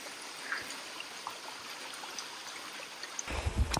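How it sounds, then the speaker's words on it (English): Rainwater streams and trickles down a steep Himalayan trail on the Annapurna route in bad weather, a steady close rushing wash with a louder splashing burst near the end and no talking. "It's pretty much a waterfall around here, and I'm pretty soaked"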